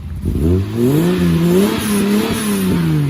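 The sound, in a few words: petrol engine starting and idling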